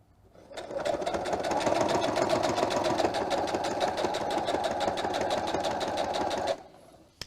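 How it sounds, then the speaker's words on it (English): A sewing machine stitches a seam through fabric for a car trash bag, running steadily and loud at a fast even rhythm for about six seconds before stopping, with no talk. "where the fabric is a little bit thicker, you might want to slow down when you're sewing"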